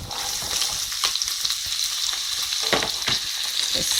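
Chopped onion and chilli fry in a pan over low to medium heat, a bright close sizzle with repeated spoon scrapes and stirring knocks, no voices.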